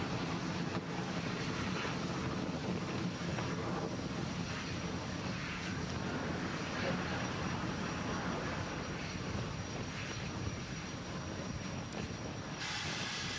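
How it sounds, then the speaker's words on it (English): Roaring rocket engines of a SpaceX Falcon launch vehicle lifting off on the CRS-31 cargo mission to the International Space Station, a loud, steady broadband rumble that holds throughout with no talk. "And we have liftoff."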